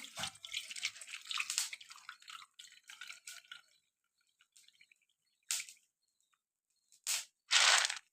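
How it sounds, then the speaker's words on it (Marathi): Water is drained from soaked chickpeas, pouring and trickling in short bursts, with splashy gushes and drips separated by quiet gaps, close by and moderately loud. "आता पाणी काढून घेते ह्यातलं"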